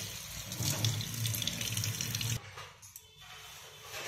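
Tap water gushes into a freshly cleaned kitchen sink at close range, a loud broad splashing that cuts off partway, then a quieter trickle and faint drips.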